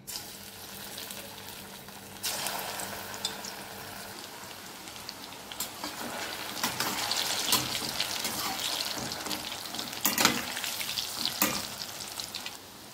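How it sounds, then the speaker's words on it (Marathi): Steamed pumpkin koftas deep-frying in hot oil, a continuous crackling, bubbling sizzle that grows busier after the first couple of seconds, with occasional sharper pops and spoon taps, close up and without speech. "आता हे वाफवलेले कोफ्ते आपल्याला तळून घ्यायचे आहे।"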